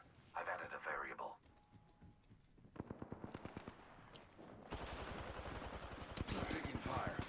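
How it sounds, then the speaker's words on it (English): Rapid bursts of video game gunfire rattle in steady repeated volleys through the second half, loud and close, with game voices and other noise earlier. "Taking fire."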